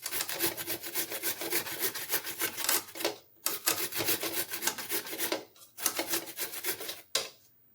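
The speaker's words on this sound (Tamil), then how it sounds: "காய் சீவரத்தில் சீவி எடுத்துக்கலாம்." Indian gooseberries (amla) are scraped on a vegetable grater in quick rasping strokes, close and fairly loud, in bursts broken by short pauses.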